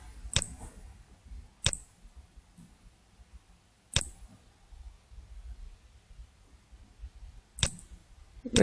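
Four sharp, isolated mouse clicks spaced a second or more apart while adjusting color settings in CRM software on a computer, crisp and close over a quiet room background.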